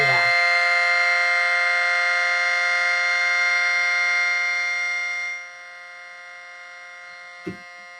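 A small 3D-printed mini SD-10 civil defense siren wails loud and steady from the start, then its pitch drops away and it fades out after about five seconds, ending with a brief knock.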